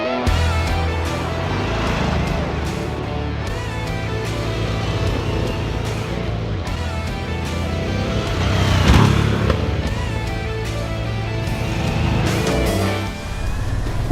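Harley-Davidson Sportster S (2021) motorcycle ridden on UK roads, a continuous engine rumble with rising and falling throttle and gear changes, heard steadily for the whole stretch with music layered over it.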